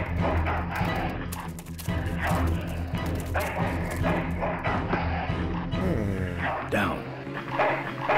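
Dogs barking in the adventure game Full Throttle Remastered, several sharp barks and yips scattered over game music and a speaking voice.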